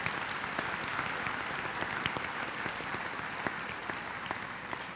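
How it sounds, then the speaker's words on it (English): Broad, steady audience applause at a high school graduation ceremony, a wash of many hands heard from a distance and sustained throughout. "Let's give them a round of applause."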